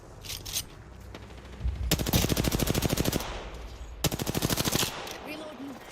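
Automatic weapon fire in Apex Legends, two long rapid bursts of rhythmic shots with a few scattered single shots before them, loud and close, with faint voice underneath.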